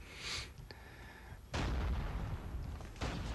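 Gunfire in the Call of Duty Mobile video game: loud broadband bursts of shots and blasts in quick succession, close and dense, with no talking.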